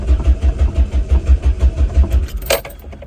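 A classic Renault 5 engine cranks repeatedly on the starter without catching. The rhythmic, near, loud churning ends in a brief bright burst near the end.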